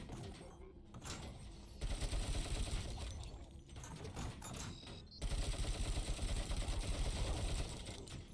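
Rapid bursts of gunfire from a gun in the video game Robocop: Rogue City, loud and dense, with sustained automatic firing in stretches broken by brief lulls and mechanical clatter.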